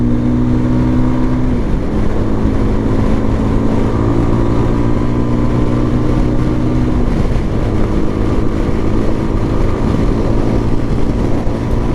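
Voge motorcycle accelerating toward 70 mph on a fast road, a loud, steady engine drone heavy with wind rush, its pitch shifting through a couple of gear changes.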